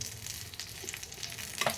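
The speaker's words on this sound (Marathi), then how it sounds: "त्यामध्ये ही फोडणी घालायची" A hot tempering of curry leaves and green chillies sizzles quietly for a dish of fasting potato patties, a low steady crackle that ends in a slightly louder burst.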